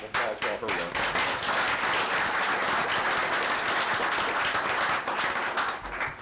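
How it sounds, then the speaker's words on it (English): A room full of people at a town council meeting gives a round of applause. The clapping is dense and sustained, starting with a few claps, quickly building to full strength and holding steady throughout. "Let's give her a round of applause for all her work."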